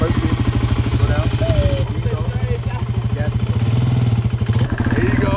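A quad ATV engine running in first gear, a steady close motor drone with a rhythmic pulsing chug throughout, with a voice briefly heard over it.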